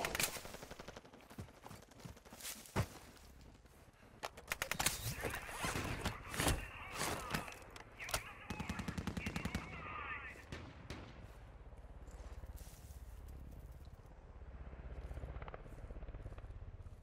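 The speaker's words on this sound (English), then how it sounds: "Are they shooting at you?" Gunfire in a video game, with bursts of rapid shots and single cracks, dense at first, then thinning into a rumbling background. Players talk over it.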